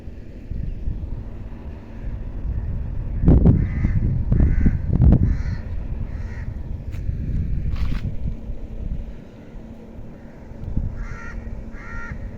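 A crow caws repeatedly outdoors in windy, stormy weather, harsh calls coming in clustered bursts over a low background rumble.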